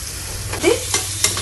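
Onions fry in a pan with a steady sizzle, punctuated by a few brief scrapes and knocks as they are stirred, close and fairly loud.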